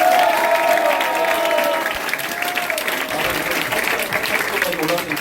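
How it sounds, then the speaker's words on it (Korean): Crowd at a Freedom Unification Party youth committee launch ceremony gives loud sustained applause, with a voice briefly audible over the clapping at the start. "큰 박수 한번 부탁드립니다."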